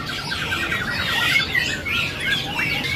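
Male white-cheeked songbird (pipi putih), a singing bird for sale at a bird kiosk, gives a run of harsh, squawky chattering calls with a few rising chirps, close and fairly loud, continuous over a faint background hum.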